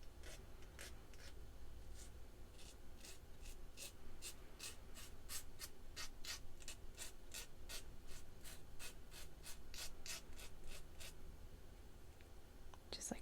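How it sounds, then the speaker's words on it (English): A hand file rasps back and forth over the cut ends of jewelry wire for a gemstone chip tree of life pendant, smoothing the sharp edges in a steady run of close, quick strokes. "use a file that I have over here just to file those down"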